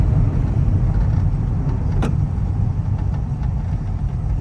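Engine of a 1968 VW Karmann Ghia with autostick transmission, a steady low rumble that swells under acceleration and then eases as the throttle is released, recorded close with a brief sharp click midway.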